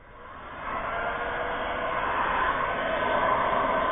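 A heat gun blows hot air onto the rear cover of a Samsung S7 (SM-G930F) during a repair: a steady, close whooshing roar that ramps up over the first second and then holds loud and even.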